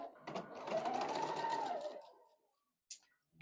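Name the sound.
sewing machine sewing a quilt block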